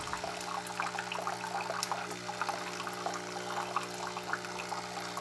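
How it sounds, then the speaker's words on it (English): Pump inside a Bunn My Cafe coffee brewer pushes out brew with a quiet steady hum, over faint watery trickling and gurgling, heard close up at low volume. "So that noise is the pump below, which is pumping out the brew."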